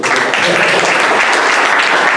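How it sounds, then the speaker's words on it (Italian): A burst of loud, close applause from an audience at a Circolo Veneto gathering in Chioggia, thick and continuous for a couple of seconds. "Merita un applauso, facciamolo."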